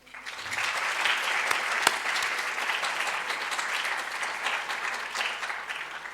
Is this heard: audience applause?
yes